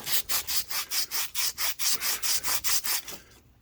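An engine shaft on the flywheel side of a Kohler Command Pro 20HP is sanded by hand: about a dozen steady, evenly paced back-and-forth rubbing strokes, close and clear with no talking.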